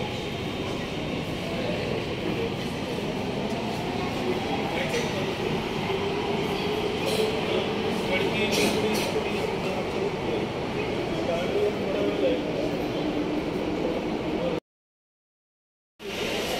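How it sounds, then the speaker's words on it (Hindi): A double-door Pune metro train at a station platform, a steady rumbling roar with faint screeching wheel tones and scattered clicks, close and continuous before cutting briefly to silence near the end. "Double door metro train, platform door train entry."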